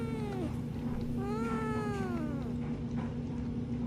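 A recorded cat meows indoors, played back to a Shih Tzu dog, giving two drawn-out, rising-and-falling meows over a constant background hum.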